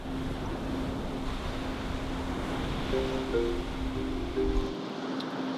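Waves and wind at a beach, a steady windy wash with surf noise and a faint tonal hum, continuous and moderately loud before cutting off near the end.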